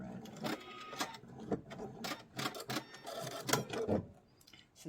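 A sewing machine stitches quilted Duet Fuse bowl fabric in short bursts, running a few stitches in reverse and then forward, its needle clatter close and rhythmic with small pauses between runs.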